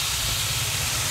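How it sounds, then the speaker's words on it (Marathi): Thalipeeth flatbread sizzles on a hot tawa greased with ghee over a low gas flame, a steady, close, loud hiss that holds evenly throughout with no talking. "तूप लावून झालं की हा जो थापलेला थालीपीठ आहे ना हा तव्यावर घालूया।"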